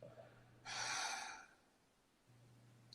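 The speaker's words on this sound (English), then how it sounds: "I exhale all out." A single deep exhale of breath, close and soft, swelling for about a second with breathy airflow before it fades into quiet, with faint room hum around it.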